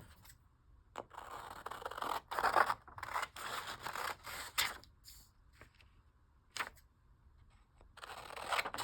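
Scissors cut paper for a junk journal in a series of crisp, close snips and slicing strokes, with rustling paper handled between cuts and no talking.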